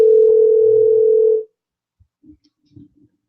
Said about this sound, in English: I ain't answering my phone. I don't know who that's calling.